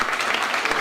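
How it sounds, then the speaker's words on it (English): Applause from an audience at a commemoration evening in a hotel function room in Bailieborough, a dense steady wash of clapping filling the whole short moment. "I think they deserve a round of applause."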